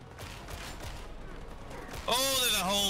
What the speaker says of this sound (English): there's a whole bunch of machine gunners over there